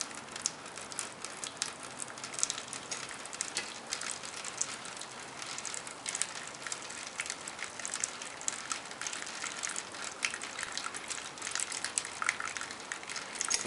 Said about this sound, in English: So this is called fly sparging.